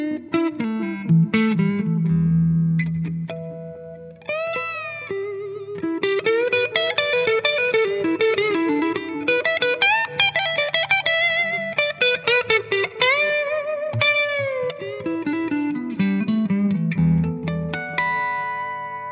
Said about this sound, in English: I'm going to turn it all the way up, and you get kind of a nice little overdrive.